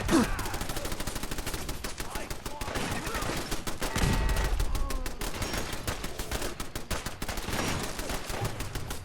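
Rapid, continuous gunfire with explosive rounds in Fallout 4, steady repeated shots for about nine seconds, with a heavier boom near the middle, fairly faint overall and without speech.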